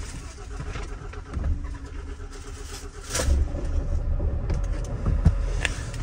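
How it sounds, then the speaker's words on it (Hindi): A car's engine cranked with the self-starter in a snowy Himalayan village, with a rough, uneven churning and knocks before it catches and runs, under a voice. "तो भाई सेल मार के देखते हैं, एक सेल में स्टार्ट होती है यानी गाड़ी"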